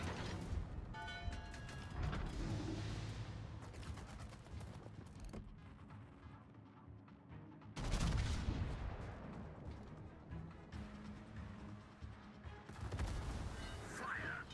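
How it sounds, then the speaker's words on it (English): Torpedoes launched from a warship in the World of Warships naval combat game, heavy mechanical thumps and booming launches in bursts over rumbling game noise, loud and close with some creaking. "Hector, have some torpedoes."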